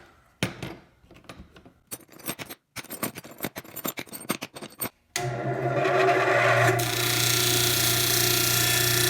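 Metal wind chime tubes jangle and clink in bursts as they are cut off their hanger, with sharp snips and gaps between, then a steady grinding, hissing tool noise takes over.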